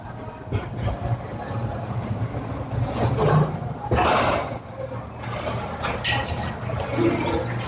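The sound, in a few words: 85-pound dumbbells being lifted and clanking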